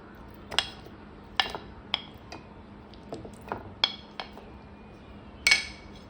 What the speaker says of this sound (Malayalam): ഞാൻ ഇത് മിക്സിൻ്റെ ജാറിലേക്ക് ഇട്ട് കൊടുക്കുന്നുണ്ട്